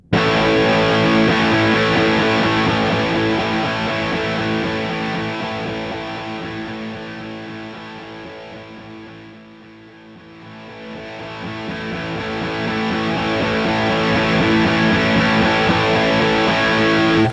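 Heavy distorted electric guitar rings out loudly, swelling down to near silence midway and then rising back to full volume, like a volume pedal sweep.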